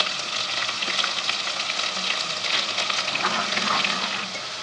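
Chicken handi spices and masala paste fry in a pan with a dense, steady sizzle and crackle, close and continuous, with occasional stirring scrapes.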